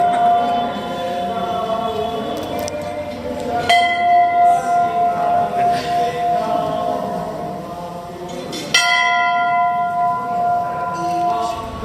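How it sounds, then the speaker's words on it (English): A Hindu temple bell is struck twice, several seconds apart. Each strike leaves a long, bright metallic ring that fades out over a steady background of crowd murmur. "To ring the bell before entering the temple, showing your presence to the God."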